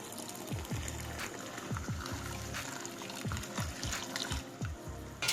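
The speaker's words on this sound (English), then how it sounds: "1 liter of water." A liter of water is poured onto crystal beet sugar and lemon salt for sherbet syrup, a soft rhythmic series of glugs and splashes heard quietly and close.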